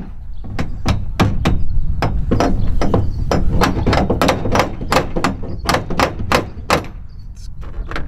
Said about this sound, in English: So I'm gonna get my small hammer,